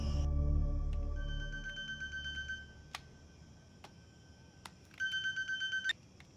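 A mobile phone rings in two bursts of bright electronic warbling tone, separated by a quiet gap with faint ticks; a low hum fades out at the start, and no one speaks.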